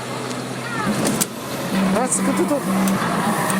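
A car engine revs and whines in an arcade racing video game at an amusement centre, with a hum that rises and falls and brief squeal-like tones, while a person talks over it.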